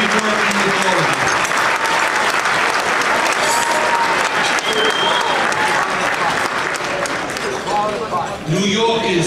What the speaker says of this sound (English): I would like to ask you all for a big round of applause for the New York Republican County Chairs